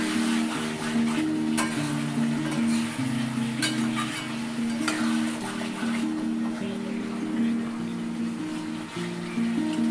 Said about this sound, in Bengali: ক্যাপসিকাম আর গাজরটা দিয়ে দিলাম, দিয়ে ভালো করে নাড়াচাড়া করে মিশিয়ে নেব।